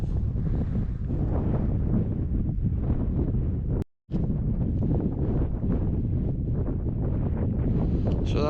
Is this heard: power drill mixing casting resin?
no